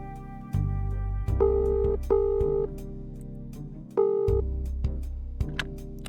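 A cell phone dials with a sequence of steady electronic tones and beeps. The tones switch in short bursts, with brief clicks between them, fairly clear and up close.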